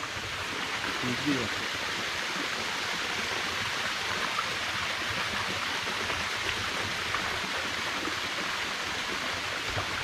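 Water rushes continuously in a steady, full roar from a waterfall pouring nearby in dense forest, with no break over the whole stretch.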